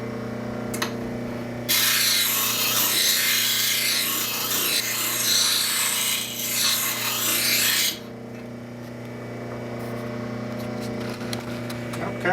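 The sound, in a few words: grinding a spokeshave blade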